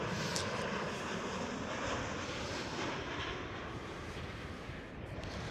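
Jet airliner of ETF Airways arriving at Amsterdam Schiphol airport, a steady broadband engine roar with wind rumble, fairly loud and continuous throughout with no talking.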